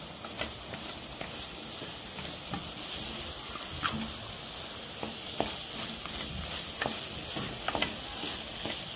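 A spoon scrapes and stirs sugar in a hot frying pan with a steady sizzle, small clicks and scrapes recurring irregularly throughout, close and alone without talk.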